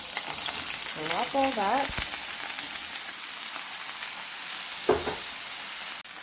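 An onion mixture sizzles steadily in mild grapeseed oil for fried rice with roasted pork, a continuous close frying hiss with a few stirring scrapes, while a voice speaks briefly over it.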